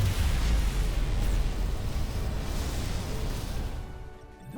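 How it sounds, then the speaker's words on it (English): In the Star Trek: Resurgence video game, a phaser shot sets off a dilithium crystal explosion. A loud, booming blast opens, then a broad roar fades away over a few seconds. "Dilithium explosion!"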